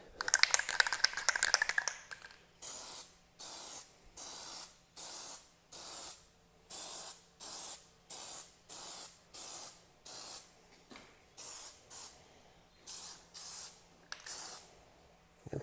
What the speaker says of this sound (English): I'm just gonna hit it again